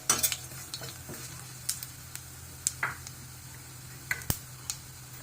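Cumin seeds frying and stirred in hot oil after garlic has browned, for a village-style wild mango gojju; a soft sizzle runs throughout, broken by scattered sharp ticks and scrapes of a spoon against the pan, close and with no talking.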